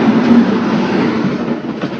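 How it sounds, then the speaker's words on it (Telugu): Araku-bound passenger train passing through a station, a steady loud rolling rumble with a dense rattle of wheels and carriages that holds throughout and eases slightly near the end. "ఇది అరకు ట్రైన్ ఏమో నేను అనుకుంటున్నా"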